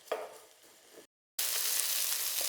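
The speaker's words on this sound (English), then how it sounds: "So I'm going to fry this for a couple of minutes." Chicken pieces frying in a pan for a takeaway-style curry, a soft sizzle that cuts out briefly and then returns as a loud, bright, continuous hiss close by.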